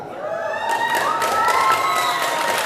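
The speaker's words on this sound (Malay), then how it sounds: "Kita beri tepuk tangan sekali lagi kepada duo sine kita Bapak Afrizal Chan." Crowd applause and cheering for Bapak Afrizal Chan at the opening of a traditional arena event, a dense sustained roar with shouting voices and a musical tone running beneath.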